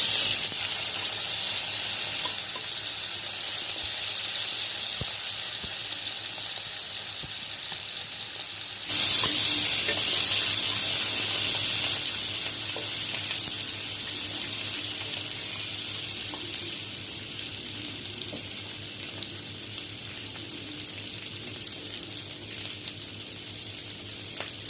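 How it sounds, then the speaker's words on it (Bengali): Mutton fat fries in oil with whole spices and bay leaves, a loud, even sizzle that jumps sharply louder as the fat drops in, then settles into a steady crackling hiss. "এর মধ্যে আমি মাটন চর্বিগুলোকে ছেড়ে দিয়ে ভালো করে ভেজে নেব"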